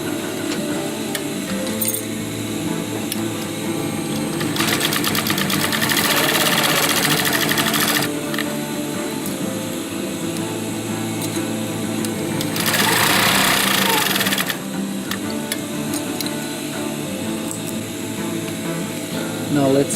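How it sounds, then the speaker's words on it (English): A sewing machine stitching a fabric utility pouch, a loud, steady close-up whir with two stretches of faster, harsher stitching, over a constant background hum. "Let's just sew this."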